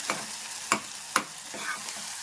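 Tomatoes with spices sizzle steadily in a pan, a close, continuous fry broken by three or four sharp scrapes of a stirring spoon at regular intervals.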